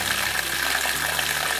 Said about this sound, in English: So Nana, this water has been flowing like this for over 300 years